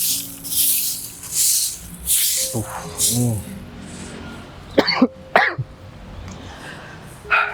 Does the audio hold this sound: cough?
yes